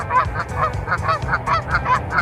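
Wild geese honk repeatedly in a rapid, overlapping series of loud, nasal calls, fairly close, with no talking.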